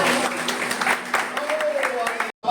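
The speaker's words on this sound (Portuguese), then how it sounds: "Quem crê pode aplaudir o nome de Jesus." A church congregation applauds the name of Jesus, sustained crowd clapping with an irregular patter that holds for over two seconds, then cuts off abruptly as a voice carries underneath.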